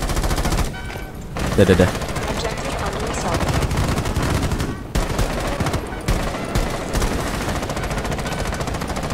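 Dense automatic gunfire from the video game Rainbow Six Siege in its alien Containment mode, sustained rapid bursts with brief pauses, loud and continuous, with a player speaking briefly over it.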